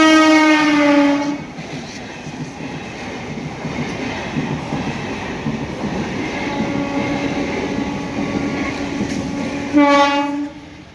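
A train sounds its horn at a level crossing near the Balung bypass gate: a loud horn blast, then a sustained close rumble of the train passing, then a second horn blast near the end.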